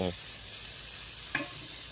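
Tomato and onion sautéing with coriander, chili and turmeric powders for a lentil dumpling curry, a soft steady sizzle with a couple of brief clinks or stirring sounds, fairly faint.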